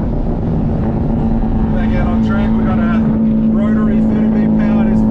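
A rotary-engined Nissan S14 with a massive side exhaust runs on a race track at Mad Mike Summer Bash 2023, giving a loud, sustained droning engine note throughout.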